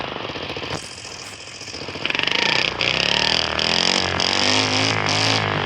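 Synthesized motorcycle engine and gear-shift sounds in the motorbike game Wheelie Challenge: a loud, continuous buzzing whine that rises sharply after a couple of seconds, then climbs in repeated stepped pitch sweeps with brief drops between them.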